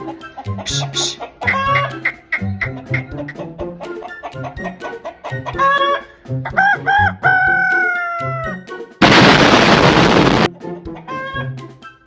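A human voice imitates a rooster, giving loud, close cock-a-doodle-doo crows in a rapid series of clucking and crowing calls, followed by a brief burst of harsh noise.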